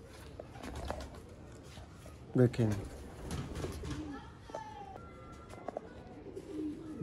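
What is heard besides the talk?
chapra pigeons cooing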